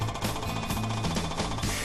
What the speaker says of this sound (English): It is important to maintain this feel as the hammer breaks through the material.